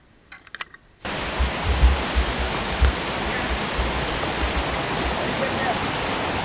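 Waterfall and clear river in the Gunung Bawang tropical forest, Bengkayang, a steady dense rushing roar that cuts in abruptly after a brief quiet moment and then holds loud and unbroken.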